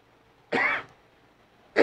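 Two short, sharp coughs, the first fuller and the second cut off at the end, close by with quiet between them.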